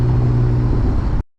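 A manual BMW E36 328i with a loud exhaust drones steadily while driving at night, a strong low engine hum holding for about a second before cutting off abruptly.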